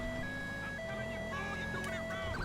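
A steady, looping electronic police siren tone in the video game GTA V wails continuously, loud and close, with synthetic warbling pitch over a constant engine-like hum.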